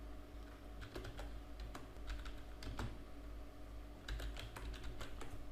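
HTML code is typed on a computer keyboard in quick, irregular bursts of crisp key clicks, close and quiet, with a short pause between flurries.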